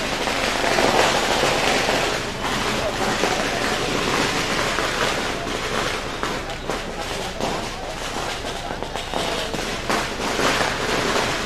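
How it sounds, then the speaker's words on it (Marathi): Firecrackers going off at an outdoor political rally, dense continuous crackling bursts filling the air, with crowd noise and a voice over a loudspeaker mixed in. "फटाके बंद करा."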